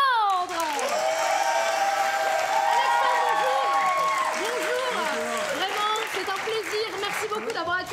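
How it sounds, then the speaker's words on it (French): Crowd applause and cheering for a singer at a live improv festival broadcast, loud and continuous, with excited shouts and voices rising over the clapping. "un tonnerre d'applaudissements pour Alexandre"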